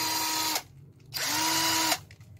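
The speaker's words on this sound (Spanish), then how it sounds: "vamos a probar nuestro taladro" A Skil 2212 cordless drill driver runs in two bursts of about half a second and just under a second, a whirring motor whine that spins up and stops, close and loud.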